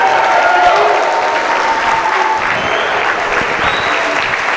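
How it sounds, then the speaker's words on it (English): Audience applause for teachers at a school performance, dense and steady clapping from a large crowd filling the room for several seconds, with a few voices faintly mixed in. "Let's give all of our teachers a big round of applause"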